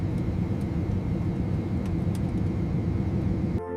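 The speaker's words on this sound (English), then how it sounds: "The plane is quiet now." Steady low roar inside an airliner cabin in flight, a constant broadband engine and air rumble with no speech, cutting off abruptly at the end.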